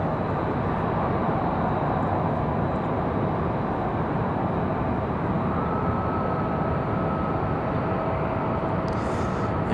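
A CRJ 900LR jet departing at Raleigh-Durham airport, a loud sustained broadband engine roar with a steady whine, continuous and unbroken throughout.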